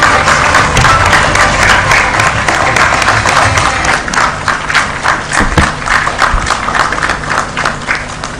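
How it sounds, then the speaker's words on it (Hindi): At a government launch event in an auditorium, an audience gives sustained, loud applause to welcome a minister, with dense clapping that continues steadily and thins out slightly toward the end. "सभी से अनुरोध है कि जोरदार तालियों से"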